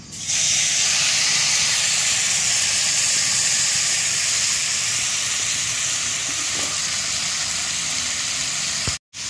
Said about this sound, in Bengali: এবার হাতে মাখানো মাছটা আমি কড়াইতে ঢেলে দেবো।